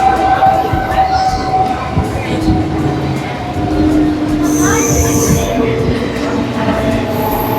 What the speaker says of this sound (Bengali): এটা হচ্ছে মুম্বাই মেল।